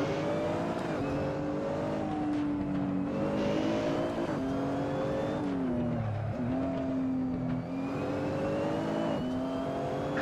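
A racing car engine in a driving video game drones and revs continuously, its pitch rising and dipping with gear shifts and throttle, close and steady throughout.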